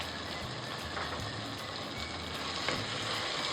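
Chicken curry ingredients with coriander leaves and salt frying in a pan: a steady, quiet sizzle that stays constant and even, heard alone.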